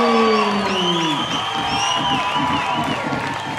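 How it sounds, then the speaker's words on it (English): A large crowd cheers and claps loudly throughout, with whoops and shouting over steady applause in a big arena at a professional boxing event. "Big round of applause for Carlos Sanchez as well"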